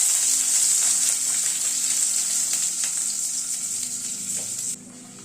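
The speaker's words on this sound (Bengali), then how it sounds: "আলুটাকে একটুখানি ভেজে নিচ্ছি প্রথমে।" Diced, lightly boiled potatoes fry in a pan with a steady, loud hiss of oil that holds throughout before dropping off abruptly near the end, with faint clinks of stirring underneath.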